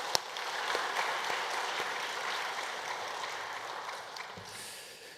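A church congregation at a Sunday service breaks into sustained applause, a steady wash of many hands clapping that holds evenly for several seconds before gradually thinning out.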